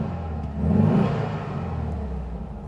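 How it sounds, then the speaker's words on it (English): A 1963 VW Beetle 1200's air-cooled engine runs close by at a smooth, steady idle, swelling briefly as it is revved before settling back into an even hum. "Such a smooth engine, actually."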